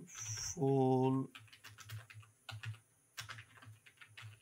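Computer keyboard typing while filling in a WordPress contact form, scattered quick keystrokes in short clusters, close and clear, with a brief tone near the start and someone talking intermittently.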